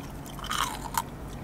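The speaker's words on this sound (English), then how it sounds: "Did you hear that crunch?" Food crunches in a couple of short bursts while being chewed, close up, over a low steady background hum with no talking.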